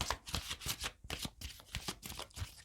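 Tarot cards shuffled and drawn in quick, crisp riffling bursts, close and fairly quiet, with short pauses between rounds.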